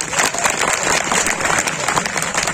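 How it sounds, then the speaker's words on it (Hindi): Loud, dense clapping from a crowd at a Hindi poetry recital, continuous and close, with a faint murmur of voices underneath. "तो जरा पीछे तक तालियां बजा दो"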